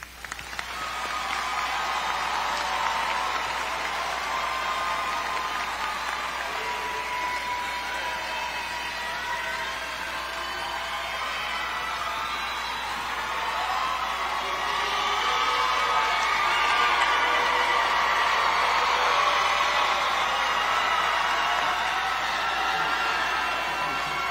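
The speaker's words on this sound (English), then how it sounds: "Will you please join me with a round of applause to praise the success of this graduating class?" A high school graduation crowd applauds and cheers steadily, a dense, sustained wash of clapping with whoops and shouts running the whole time without letup.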